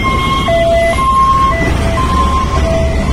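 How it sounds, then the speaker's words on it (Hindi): A loud ambulance siren wails in alternating high and low tones, close by, over road traffic rumble. "एम्बुलेंस देख, एम्बुलेंस रेस हो जाए सागर,"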